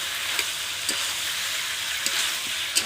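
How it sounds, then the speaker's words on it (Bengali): Potatoes sauté in a pan for a chicken curry, giving a steady, fairly loud sizzle throughout, with a few brief spoon clicks and scrapes spaced through it. "এখন আলুটা দিয়ে আবারও ভালোভাবে 10 মিনিট মতো কষাতে দেবো।"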